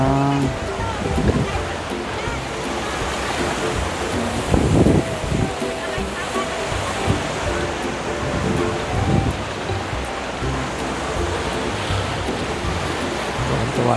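Surf breaking at Boracay beach, a steady broad wash of strong waves with a few louder crashes, heard close under faint voices of family members playing in the water.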